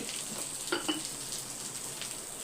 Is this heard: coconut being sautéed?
yes